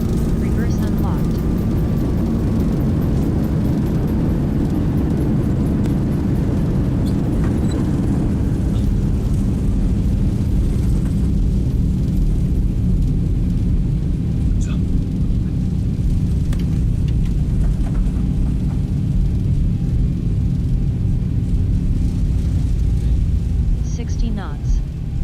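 Airliner reverse thrust during landing rollout in a flight simulator with a Boeing 737 Zibo mod, a loud, steady low roar of engine rumble that holds for the whole stretch, with people talking over it.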